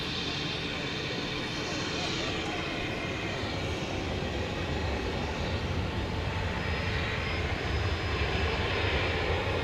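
Airbus A321neo airliner departing DFW Airport at night, a continuous loud jet engine roar that holds steady throughout, heard from a distance without any voices.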